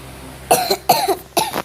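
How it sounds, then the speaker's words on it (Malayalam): Three short, sharp coughs in quick succession, close to the listener, with brief pauses between them. "ഗൈസ് ഇടയ്ക്ക് ചുമ കാണും, അത് നിങ്ങൾ നോക്കണ്ട."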